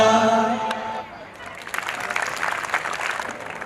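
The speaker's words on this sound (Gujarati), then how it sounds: "મીરા માટે ફરી એક વખત જોરદાર તાળીઓ" An audience in Surat breaks into applause after a performance of the song Saare Jahan Se Achha, a dense steady patter of clapping rising as a held sung note fades out.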